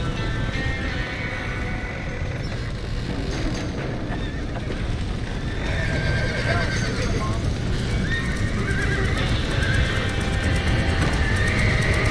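Horses in Red Dead Redemption neigh and whinny through a dense, continuous wash of noise and wind-like rumble, with voices and commotion mixed in throughout.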